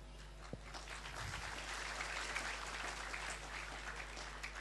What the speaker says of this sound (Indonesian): jangan tepuk tangan, men.